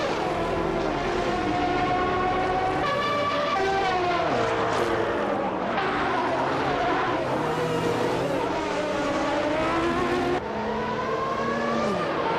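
Engines of several race cars whine and rise in pitch in a racing video game, tones sweeping up and down as the cars trade places on a straight and brake into corners, filling the whole stretch without a break.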